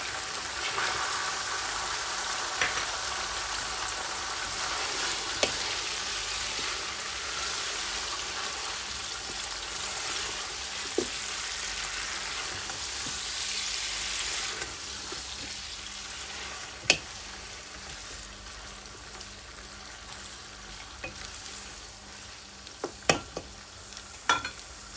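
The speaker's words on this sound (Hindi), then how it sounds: "चिकन को हमें अच्छी तरह फ्राई करना है। इसमें उसी वक्त हम नमक डाल देंगे।" Chicken frying in a pot with salt added, a steady close sizzle running throughout with occasional scraping clicks and knocks from a stirring spoon, no talking.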